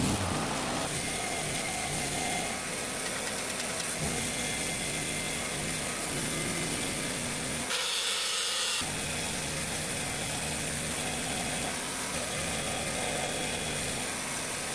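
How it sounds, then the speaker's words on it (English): A 450 horsepower SUV engine idling steadily while jumpstarting a generator outdoors, a continuous mid-pitched rumble with a brief change in tone partway through. "using a 450 horsepower SUV to jumpstart a generator"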